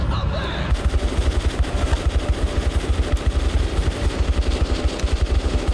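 Rapid automatic gunfire from the Metro video game, a steady loud stream of shots in quick rhythm that runs nearly unbroken for several seconds.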